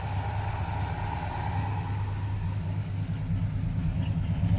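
A Pontiac GTO V8 with a freshly upgraded carburetor idles steadily, a low, even rumble heard at moderate distance with no talking.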